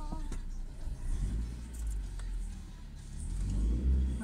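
A car rumbles and whooshes past on a road, heard from inside another vehicle with a low engine drone swelling and fading over a few seconds, with faint talk alongside.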